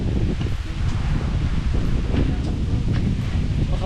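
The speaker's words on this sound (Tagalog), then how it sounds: "Sobrang lakas ng hangin." Strong wind blows steadily outdoors by a bahay kubo nipa hut, a constant loud roar with rustling gusts and microphone buffeting throughout, no voices.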